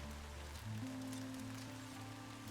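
Steady rain falling in the RedM western game world, a soft continuous patter heard faintly alone with a low ambient hum beneath.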